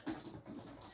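An excited dog whimpers and gives soft yips indoors, faint and close, in short uneven bursts.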